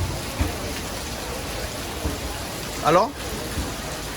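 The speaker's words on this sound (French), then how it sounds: "on arrive à Delhi et il pleut" Rain falling in Delhi, a steady soft hiss and patter that carries through under a brief spoken word, with a short louder burst near the end.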